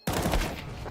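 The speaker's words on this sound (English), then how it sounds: "Flashbang." A flashbang grenade detonates in Counter-Strike 2 with one sharp, loud, close burst and a short decaying tail, heard alone.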